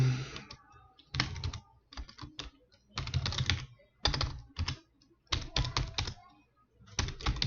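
A computer keyboard is typed on while writing a Java method: quick close bursts of key clicks separated by short pauses, with steady clattering runs throughout and no speech.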